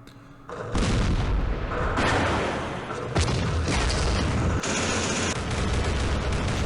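A 23mm anti-aircraft gun opens up at night in Campaign Series Middle East, a loud sustained roar of rapid booming fire beginning after a quiet second and continuing with a few sharper cracks, no talking.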